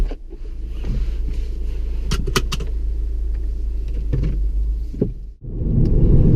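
A 2016 Volkswagen Golf GTI pulls away, its engine rumbling steadily with a low drone, a few clicks and bumps along the way, a brief dip, then the engine note rising again as it drives off.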